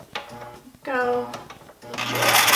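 A sewing machine stitches along the edge of a garment hem, its whirring runs coming in short bursts close by, mixed with a person talking.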